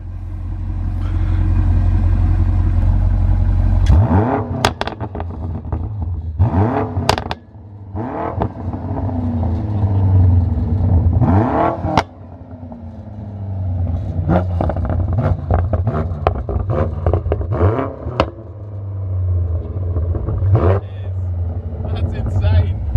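A 2019 BMW M5 Competition with AC Schnitzer ACS5 Sport tuning rated at 720 bhp, its engine idling deep and loud then revving repeatedly in sharp bursts through the exhaust, with people talking between the revs.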